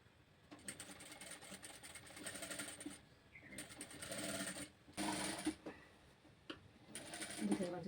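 A sewing machine stitches a princess-cut blouse in bursts of rapid whirring, starting and stopping several times at close range, with someone talking quietly between runs.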